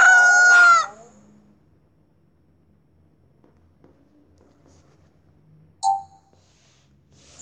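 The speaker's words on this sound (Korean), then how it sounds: "부인하는 순간 닭이 우는 소리가 들어왔어요." A rooster crows once, loud and close, in a short burst at the start, followed by near silence and a brief second cry near the end, with no talking.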